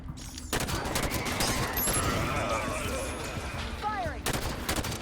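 Gunfire in the video game Halo 5: Guardians, dense rapid volleys of shots and crackling impacts that carry on without pause, with a voice briefly heard beneath the racket.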